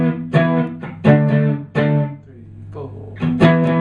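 Electric guitar power chords from a song's verse strummed in short, loud bursts, three hits with gaps, then a quieter scratchy pause before another strong chord hit.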